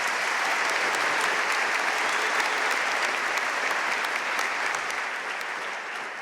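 Sustained, dense applause from a graduation audience for award winners at the 2022 Duke Executive MBA and MSQM ceremony, steady and loud throughout before easing slightly at the end, with no talk over it.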